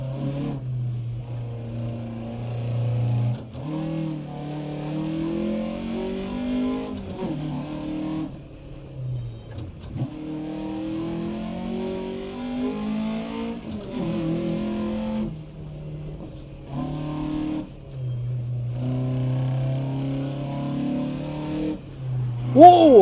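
Rally car engine in the racing game Dirt Rally 2.0, revving and shifting through gears with rising and falling tones, brief lifts and drops in pitch, moderately loud throughout.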